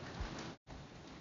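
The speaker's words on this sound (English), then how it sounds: "There is unfortunately a pretty big rainstorm right now" A heavy rainstorm beats down outside as a steady, dense hiss of rain that runs unbroken, apart from a brief drop-out in the middle.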